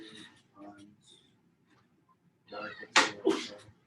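A single sharp sneeze bursts out after quiet murmuring, close and loud, followed by a brief trailing breathy burst.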